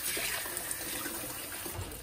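Water pours steadily into a bowl of ice water meant for soaking a terra cotta garlic baker, a soft continuous trickling rush with no voices.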